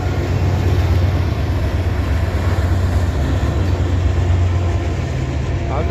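A GP diesel locomotive passes with its train, giving a loud, steady low engine rumble and wheel noise that holds throughout without a break.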